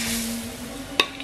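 Vegetable fritters (bakwan) frying in hot oil give off a soft, steady sizzle, with a sharp clink of a utensil near the end.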